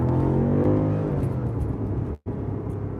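A 2021 BMW M5 Competition's engine revs hard and close as it climbs, and a sharp cut in the sound marks a paddle-shifted upshift before the engine note picks up again. No one talks.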